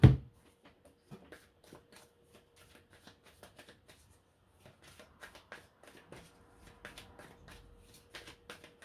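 Tarot cards shuffled by hand in a quiet room, a soft burst of riffling followed by a long run of light, irregular flicks and taps close by, with no talking.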